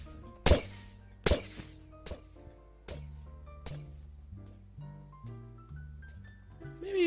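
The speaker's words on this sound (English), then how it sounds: "Besides like the random shattering of glass, it's pretty darn quiet." Glass shattering in the Minecraft video game, two sharp crashing breaks near the start followed by softer breaking hits, set over a quiet background of sustained musical tones, with no talking.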